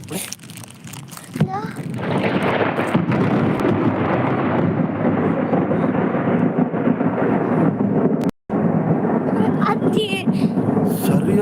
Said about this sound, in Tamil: சரியான இடி மின்னலுங்க சார்